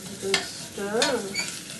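Carrot soup ingredients are stirred in a pot, giving a brief scrape and clink over a soft, steady sizzle, close by and with no voices.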